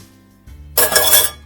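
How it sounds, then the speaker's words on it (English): Chocolate crinkle cookie dough is stirred in a bowl: a soft knock, then a loud close scraping rattle of utensil against the bowl lasting under a second. "Stir as much as we can."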